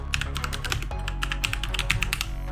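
Rapid typing on a computer keyboard as a command is entered in a terminal, a dense close run of crisp key clicks with no talking.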